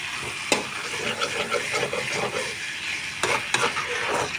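Spices frying in a pan while being stirred: a continuous soft sizzle and hiss, broken by a few sharp scraping strokes of the spoon against the pan, close up and without speech.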